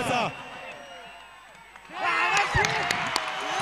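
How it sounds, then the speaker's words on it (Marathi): Crowd applause and cheering at a night cricket match, swelling loudly in the second half with scattered whoops after a quieter stretch, voices mixed through the noise. "जोरदार टाळ्या."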